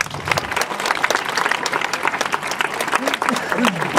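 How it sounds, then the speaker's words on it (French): Audience applause and clapping at a hypnosis show held at a campsite, a dense steady patter of many hands lasting the whole moment, with voices and crowd noise mixed in. "on les applaudit bien fort"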